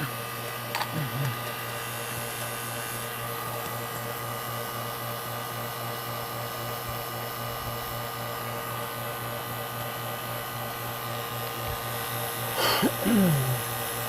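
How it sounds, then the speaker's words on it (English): A vacuum pump evacuating a mini split air conditioner's refrigerant line hums steadily without pause, with a couple of brief clicks and a short rising squeak near the end. "Vacuum it down for another couple of minutes just to make sure."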